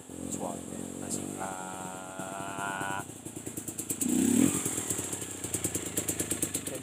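An enduro motorcycle engine pulses at low, gentle throttle in short rhythmic bursts, close and fairly loud, while someone talks over it.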